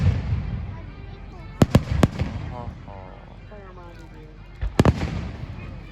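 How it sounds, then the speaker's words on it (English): Independence Day fireworks burst in sharp, loud cracks, a cluster of three early and another tight group later, with crackling and a constant crowd murmur between them while people talk nearby. "I like those flashing light fireworks."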